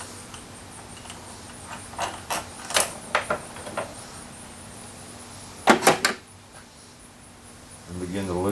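Bolts being removed from an outboard motor during a reed valve replacement: a series of short metallic clicks and clinks of tools and loosened fasteners, close by, in irregular bursts with quiet gaps and a low hum underneath.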